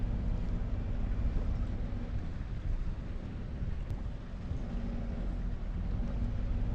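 A twin-engine catamaran turning in place, one engine running forward and the other in reverse, gives a steady low engine rumble mixed with wind buffeting the microphone and no talking.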